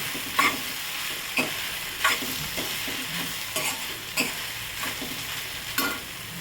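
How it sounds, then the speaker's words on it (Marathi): Sushila, a puffed rice dish, is stirred and sautéed in a pan over a low flame, with a soft, steady sizzle broken by periodic scraping strokes of the spoon about once a second. "परतून घ्यायचं 5 मिनिट. एक 5 ते 7 मिनिट बारीक गॅसवर ठेवून द्यायचं."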